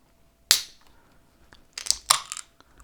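Beer bottle being opened: a sharp crack of the cap coming off, then a brief fizzy hiss and a few clinking, crunchy clicks, close and fairly quiet against a silent background.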